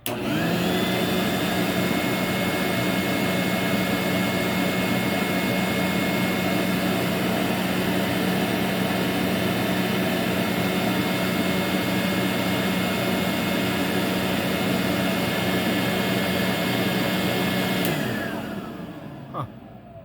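A Vorwerk VK120 vacuum cleaner fitted with an ET340 geared belt nozzle runs steadily and loudly with a constant whine and motor drone, shutting off near the end as it winds down.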